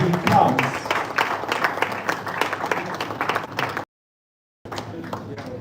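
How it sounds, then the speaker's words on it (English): An audience at an aviation career event applauds a commercial airline pilot as he joins a panel. The clapping is busy and fairly loud, with voices mixed in, breaks off abruptly into silence, then resumes briefly. "A round of applause for him as he comes."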